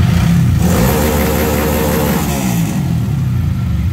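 A Honda Titan 150 motorcycle fitted with an Athlon two-step module revs hard against the limiter, its engine loud and close in a rough, stuttering drone that dips briefly near the end.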